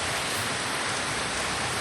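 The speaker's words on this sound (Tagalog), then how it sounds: "Nararamdaman ko kasi yung lakas ng ulan na walang tigil, magdamag." Heavy overnight rain pours down steadily, a dense, continuous hiss of water with no pauses, close and loud throughout.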